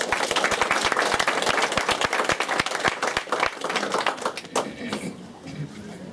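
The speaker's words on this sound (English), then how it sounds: "Can we give her a round of applause, please?" Audience applause at a 2015 art show, a dense burst of many hands clapping that is loud and steady at first, then thins out and fades toward the end.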